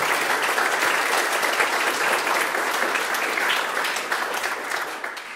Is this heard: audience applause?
yes